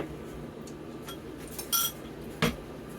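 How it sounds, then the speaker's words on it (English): A utensil scrapes and clinks against a pan while a smoky sauce flavoured with liquid smoke is stirred, with a few sharp metallic knocks standing out over a low background hum. "We'll give that a nice little stir there."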